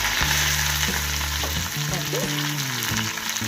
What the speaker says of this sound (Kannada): ಈಗ ಇದಕ್ಕೆ ಹಸಿಮೆಣಸಿನ್ಕಾಯಿನ ಹಾಕ್ತೀನಿ ಹಸಿಮೆಣಸಿನ್ಕಾಯಿ ಕರಿಬೇವು ಈರುಳ್ಳಿ